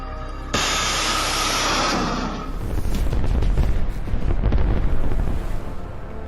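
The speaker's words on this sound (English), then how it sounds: "The cluster munition explodes" A cluster munition explodes near a Russian ammunition truck, bringing a sudden loud blast and then a long roar of rapid crackling submunition detonations, harsh and sustained, with no voices.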